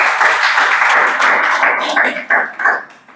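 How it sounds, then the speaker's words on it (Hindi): A classroom of students bursts into close, loud clapping that holds steady, then breaks into a few separate sharp claps at the end. "ताली बजाओ जी, सही बात है"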